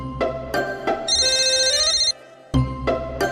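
A phone ringtone plays a short bright melodic phrase for about a second, set among sharp percussive hits and background music.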